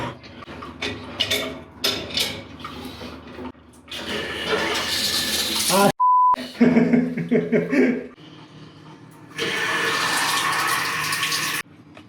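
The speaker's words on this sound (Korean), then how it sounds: "이제 물이 잘 나오는 거 확인했으니까" Water runs from a newly installed top-bowl bathroom sink faucet in gushing bursts that start and stop. A brief beep interrupts midway, then a longer steady stream of running water follows near the end.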